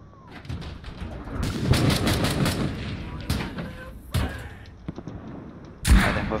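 A C4 charge detonates during an urban combat video game, with several sharp, loud blasts and bursts of gunfire-like cracks punctuating the scene, the final explosion near the end hitting hard; a voice talks over parts of it.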